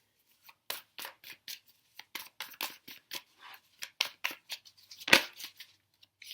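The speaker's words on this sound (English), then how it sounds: "I'm going to go ahead and pull your outcome cards for you" Tarot cards are shuffled and pulled from the deck, producing a quick, uneven run of soft papery flicks and snaps, close and fairly quiet, ending with one sharper slap.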